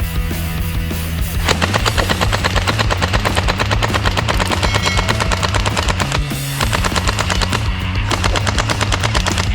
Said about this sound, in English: AK47 submachine gun!